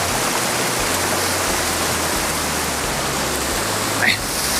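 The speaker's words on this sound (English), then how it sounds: "We got waterfalls essentially the whole way up this trail." A waterfall along the Ammonoosuc trail in New Hampshire's White Mountains gives a steady, loud rushing roar that fills the whole stretch, with a low rumble underneath and a brief splashy swell near the end.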